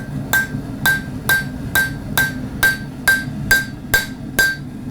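A hammer strikes steel while a knife is forged, ringing out in about ten evenly spaced, sharp metallic blows, each with a brief bright ring, loud and close with no talking.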